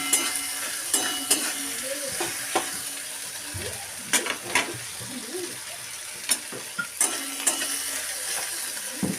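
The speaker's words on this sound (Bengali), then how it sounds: "এখন আমি এই টমেটোগুলো দিয়ে দিচ্ছি টমেটোর সঙ্গে আবারও মশলা ভালো করে কষিয়ে নিতে হবে" Tomatoes and spices frying in oil in a pan for a fish curry, a soft continuous sizzle broken by repeated scraping stirs and spoon knocks against the pan.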